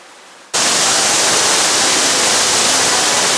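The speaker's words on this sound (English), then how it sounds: "Look at that waterfall." Underground waterfall in a cave more than 200 feet below the surface, heard as a steady, loud, broadband rushing roar that starts abruptly and continues unbroken with no voices.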